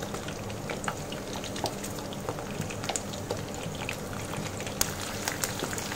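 Big chunks of chopped onion fry in hot oil in a kadai over medium heat, a steady dense sizzle with scattered crackles and pops throughout, close and even, no talking.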